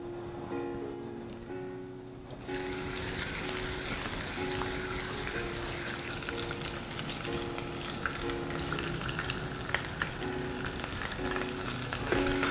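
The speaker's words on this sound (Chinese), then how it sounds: "每一面都给它煎一煎，8面都给它煎一下啊" Pork belly pieces sear skin-side down in a little oil over medium-low heat, a close crackling sizzle that swells after a quiet start and keeps popping steadily, with occasional stirring and no voices.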